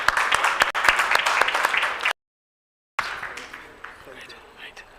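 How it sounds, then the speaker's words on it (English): Applause from the audience at a Brand Africa 2022 evening event in Lesotho breaks off into a brief gap of silence, then resumes more faintly as scattered clapping with background talk. "Give them a round of applause."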